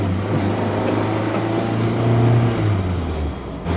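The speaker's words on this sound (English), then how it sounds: "Ooh, and that was a ride in the 190SL." A Mercedes-Benz 190SL being driven: a steady, close engine drone with road and wind rumble, the pitch rising slightly as it pulls before easing off near the end.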